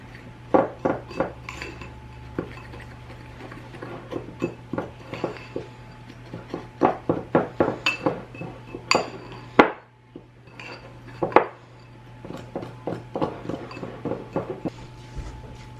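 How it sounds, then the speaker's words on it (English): Cutlery and a spoon clink steadily against a bowl as coffee cake batter with brown sugar is stirred, a rapid irregular run of close, bright scraping taps with a low hum behind and no talking. "And then we're just going to stir this all together."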